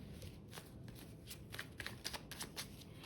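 A deck of tarot cards is shuffled nearby and quietly. The cards give soft, quick riffles and flicks in short bursts, and no one talks.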